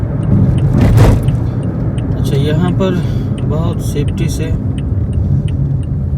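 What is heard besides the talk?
car making a U-turn on a Saudi road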